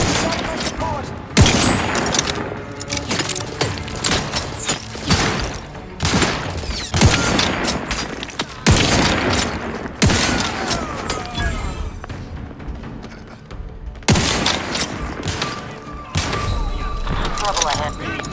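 Firefight in the video game The Outer Worlds 2, with dense bursts of gunfire, repeated loud shots and thumps, mixed with game voices and effects throughout.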